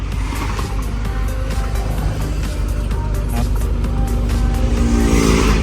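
A car pulls away quickly during a steering test of its electric power steering, the engine loud and close and revving steadily throughout under a constant roar.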